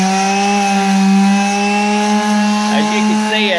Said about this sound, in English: as I'm sanding that, knocking that guide coat off